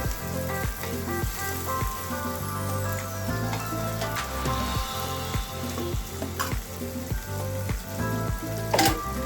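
Ginger frying in a pan for upma, a steady sizzle with rhythmic stirring scrapes repeating throughout, close and continuous, with a few brief clinks near the end.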